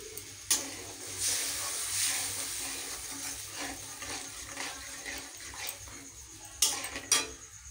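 Mung dal with tomato, chopped green chili and three whole dried red chilies being tempered in a pot: a soft steady hiss and sizzle broken by sharp metal clinks of a utensil against the pot, with a cluster of clanks near the end.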